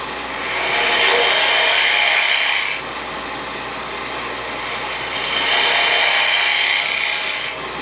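A woodturning gouge cuts into a spinning wooden box on a lathe, hollowing it. Two sustained scraping, hissing passes sound close and loud, with a quieter hum of the lathe between them.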